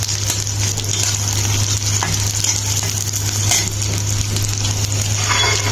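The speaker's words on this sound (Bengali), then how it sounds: "আমি এখানে কিছু মরিচ আর রসুন আর পেঁয়াজ ভেজে নিচ্ছি।" Chillies, garlic and onion frying in a pan, a loud continuous close sizzle with scraping stirring strokes throughout and a low steady hum underneath.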